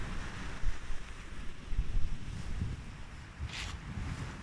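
Sea swell and waves breaking at the water's edge on the Isle of Wight coast at Blackgang Chine, a steady rumbling wash of surf with wind buffeting the microphone, fairly loud and continuous.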